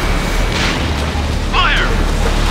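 A destroyed anti-air gun explodes in Ace Combat Infinity, a deep boom and burst rising over a constant low jet-engine rumble, with a radio voice speaking.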